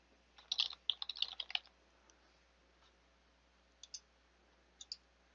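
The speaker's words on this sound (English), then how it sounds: "Enter in our password." A short burst of quick keystrokes on a computer keyboard as a password is entered, followed by a few isolated key clicks, close and fairly quiet with no talking.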